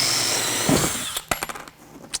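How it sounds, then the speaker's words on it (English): A drill bit bores out a pop rivet on a Wilson Case shipping case, with a sustained high whine for about a second, then the motor winds down into a few sharp clicks and rattles. "Just center the bit up into the rivet and slowly"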